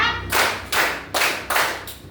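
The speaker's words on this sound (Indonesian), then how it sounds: "Tepuk 1, tepuk 2, tepuk 3, tepuk 4" Children in a classroom clap game strike their hands together in a steady rhythm, four loud, near claps spaced about 0.4 seconds apart, each a sharp burst with a brief tail, no talking over them.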